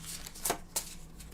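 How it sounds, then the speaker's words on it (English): Soft, close riffling snaps of playing cards being shuffled, two brief crisp bursts over a quiet room. "So I shuffle the cards here."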